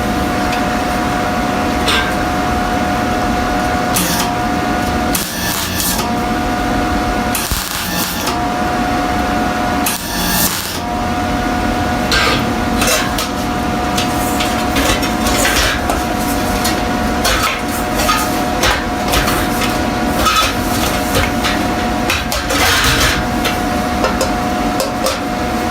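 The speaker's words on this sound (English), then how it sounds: "So I'm going to start lining it up, tack welding it together right here at the front." Tack welding joins two halves of a metal helmet, with repeated short buzzing crackles and hissing bursts at close range over a steady workshop hum, separated by brief pauses and occasional tapping.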